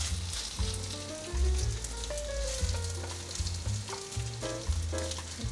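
A sweet potato and carrot patty sizzles steadily in an oiled pan, a close, continuous frying crackle with soft pressing and shifting noises on top.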